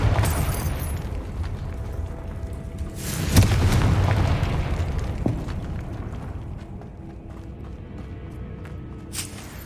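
Fiery Confringo spell blast in Hogwarts Legacy, a loud booming burst with a rumbling low roar that swells and then slowly fades over several seconds, without voices.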